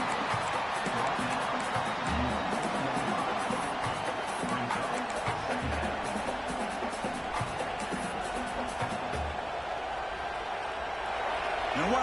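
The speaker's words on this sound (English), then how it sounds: "wow, listen to this crowd noise. This stadium is vibrating." A dense, steady roar of a packed stadium crowd in College Football 26 fills the whole stretch, a loud wall of cheering with no breaks.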